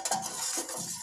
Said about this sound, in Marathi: आपण फोडणी ही आपण वरणमध्ये टाकलेली आहे.